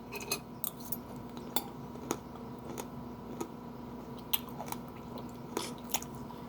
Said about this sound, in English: I want them to hear the crunch.